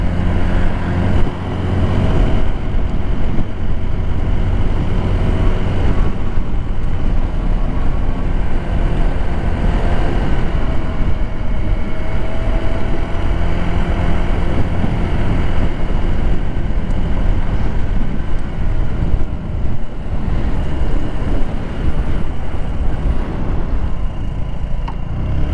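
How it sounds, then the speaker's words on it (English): An Icebear Hawkeye 150cc scooter engine drones steadily while riding, blended with heavy wind rush across the microphone, loud and continuous for the whole stretch. "The way this scooter sounds, it's not too loud, it's not too low"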